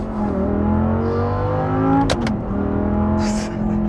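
An Audi R8 with a 5.2 litre naturally aspirated V10 and gated manual, engine revving hard and accelerating with a dense sustained howl, close and loud, with a brief sharp crackle midway.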